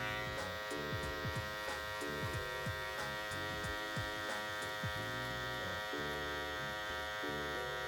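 Electric hair clippers with a 1.5 guard and the lever fully open hum steadily and close up while cutting a high taper fade, with slight pitch dips as they pass through hair and no talk.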